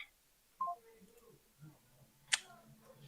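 A telephone dialing out to reach a manager: a couple of short tonal beeps early on, then a sharp bright click-burst, with faint room noise and murmur underneath.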